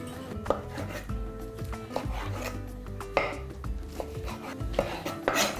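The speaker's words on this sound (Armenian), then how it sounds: "Կտրատում ենք նաև կծու պղպեղը։" A knife taps and rubs against a cutting board in quick, uneven strokes as roasted sweet and hot peppers are cut into strips, close and moderately loud, with light clinks between.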